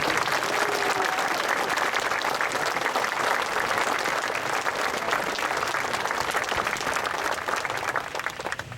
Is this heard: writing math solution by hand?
no